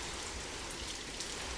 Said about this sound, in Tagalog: Inabot na sila ng ulan, kay at Robin.